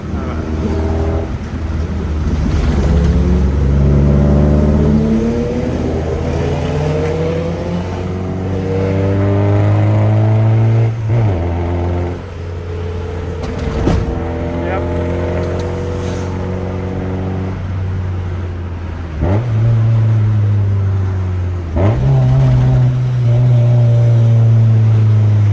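A Honda Civic engine revs and pulls through the gears while driving, its pitch repeatedly climbing and dropping with each shift, loud and close from inside the car, and a voice speaks briefly over it.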